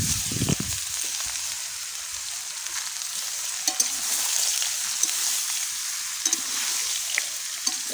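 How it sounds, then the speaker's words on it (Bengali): Raw mango pieces and five-spice seeds sizzle steadily in hot oil as they are stirred, a continuous bright frying hiss with occasional scraping clicks from the spoon, close and loud, with no talking. "এভাবে একটু নাড়াচাড়া করে নেব।"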